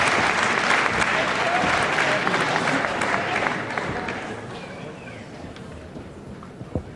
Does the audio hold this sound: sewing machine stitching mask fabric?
no